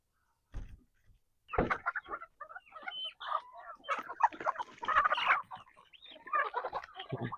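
A backyard flock of roosters clucks and squawks close by, overlapping calls and short cries coming in busy bursts after a few soft thumps, loud and chaotic with brief gaps.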